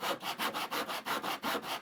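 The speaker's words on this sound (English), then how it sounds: "we're gonna be using the handsaw to cut these pieces" A handsaw cuts through wooden shelf pieces in steady back-and-forth strokes, about eight rasping pulses in under two seconds, close and fairly loud with no talking.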